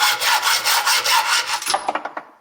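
A metal bumper bracket being cut by hand with a saw, steady back-and-forth strokes close up and loud, ending in a few slower, separate strokes before stopping.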